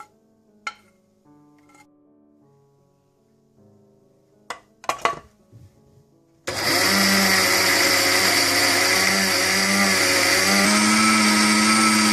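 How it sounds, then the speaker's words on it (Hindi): An electric grinder whirs at a steady, loud, high-pitched whine for several seconds while grinding chaat masala with dry ginger, mango powder, red chilli, citric acid, black salt and salt. Faint clinks and handling knocks come before the motor starts. "सौंठ, आमचूर पाउडर, पिसी हुई लाल मिर्च, टाटरी, काला नमक और नमक भी शामिल करके अच्छी तरह से एक दफा फिर ग्राइंड कर लें"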